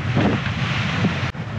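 Short, choppy sea waves slap against a Leopard 45 cruising catamaran under sail, with steady loud wind buffeting the microphone throughout and no talking.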